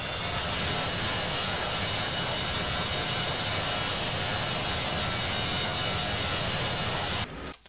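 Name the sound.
A-10 jet engine whine, video game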